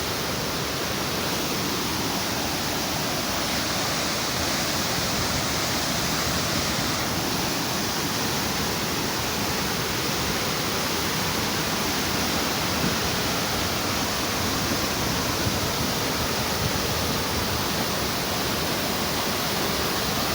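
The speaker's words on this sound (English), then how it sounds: "this is Mahoma waterfall. I hope you hear the sound of the river." Mahoma waterfall and its river give a steady, dense roar of rushing water that fills the whole stretch without a break, close and loud with no voices.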